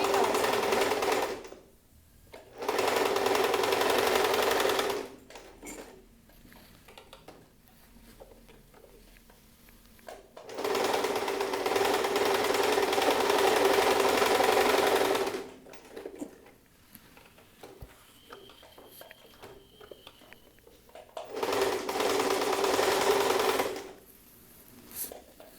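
A sewing machine backstitches a pocket on dress trousers in three loud, steady runs of a few seconds each, with quiet handling gaps and faint talk in between.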